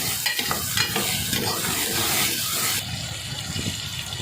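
Tomatoes and green chilies sauté in a pan, giving a steady, close sizzle and frying hiss with bursts of stirring that keep going the whole time. The sizzle softens a little toward the end.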